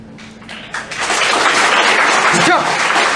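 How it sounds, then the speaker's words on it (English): A group of engineering students in a campus lecture hall break into dense clapping after a short opening voice, building to a loud, steady patter that fills the rest of the moment. "At least clap it."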